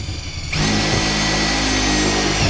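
A power drill drives a bolt into a wooden wall stud in a garage; after a brief quieter start, a loud, steady, continuous whir runs close up with no talk.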